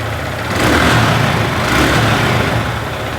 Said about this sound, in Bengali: বাইকটা কিন্তু স্টার্ট করা হইলো আর আপনার সাউন্ডটা শুনতে পাচ্ছেন